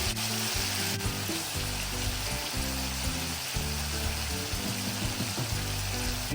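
Pork ribs frying in a pan, a steady close sizzle and crackle of hot oil running unbroken with small popping bursts, no voices over it.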